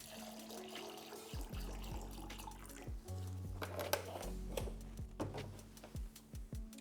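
Tap water runs and splashes into a container while 500 milliliters are measured out for black-and-white film developing solutions in a darkroom, with a steady low flow, gurgling pitch shifts and a few small knocks.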